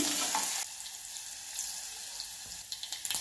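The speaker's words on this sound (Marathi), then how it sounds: "त्यात टाकूया बघा कढीपत्ता। असं छान मिक्स करून घेऊया भाजून।" Crushed garlic and curry leaves sizzle in hot oil in a pan, a steady close frying hiss that grows a little busier toward the end.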